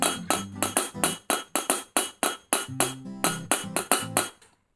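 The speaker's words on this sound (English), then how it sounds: "If I play this glass," A drinking glass struck repeatedly as an instrument in a quick, even rhythm of bright ringing hits, each decaying before the next, close and loud with no talk.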